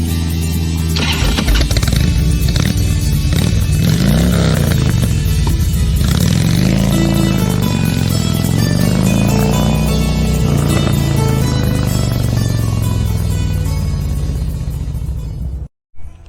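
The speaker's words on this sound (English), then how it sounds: "there's some of that traffic I've been telling you about" Road traffic passing on wet, rainy streets in Fort Smith, Arkansas: loud, close engine rumble and tire hiss as vehicles go by continuously, with rising and falling engine tones and no speech.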